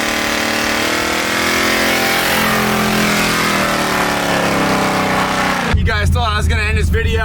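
A supercharged V8-swapped Jaguar XJ engine revs hard in a loud, dense roar that rises and sustains for several seconds, then cuts to a rougher, lower idle-like rumble, with a voice speaking over it.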